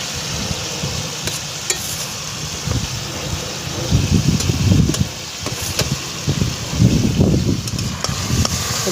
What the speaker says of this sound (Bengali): তো এবারে ভাজা আলুগুলো দিয়ে দিচ্ছি।